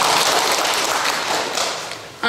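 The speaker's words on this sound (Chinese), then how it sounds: "再次掌声" Applause from attendees at a members' general meeting of a religious association, a steady dense wash of clapping that holds for about two seconds, thins slightly, then ends with a sharper burst.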